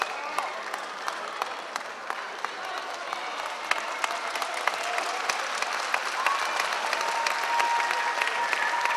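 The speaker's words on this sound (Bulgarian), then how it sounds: "Ръкопляскане след този пропуск за Аксентиева" Spectators at a Bulgarian top-league women's basketball game, Haskovo against Rilski, clap in sustained applause across a hall, loud and continuous, while a commentator talks over it.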